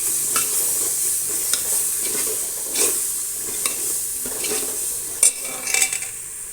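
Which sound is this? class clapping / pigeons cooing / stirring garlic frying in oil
stirring garlic frying in oil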